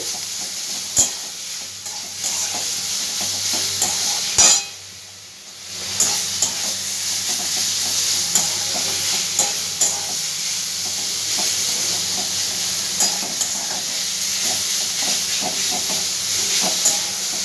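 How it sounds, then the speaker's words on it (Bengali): Kharkon, an aroid stem, fries in a pan with a steady, close hiss and sizzle. A utensil scrapes and stirs through it at intervals, with one short dip in the sizzle partway through. No voices are heard. "সবগুলো খুব ভালো করে আমি ভেজে নেব।"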